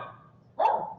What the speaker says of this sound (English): Oh, there's my dog.